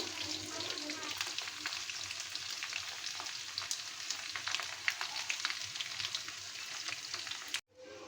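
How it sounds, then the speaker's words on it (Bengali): Chicken meat chops sizzle steadily in hot frying oil, a dense crackling hiss with small pops that runs close and even for several seconds before cutting off abruptly near the end. "তো আরও 2 মিনিট লাগবে এটা ভাজা হইতে থাক"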